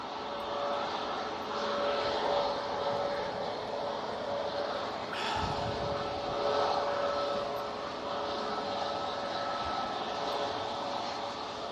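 A Canadian C-130 Hercules turboprop departs Manchester Airport in strong storm winds, its engines a loud sustained roar with droning tones that surges and fades as it climbs away.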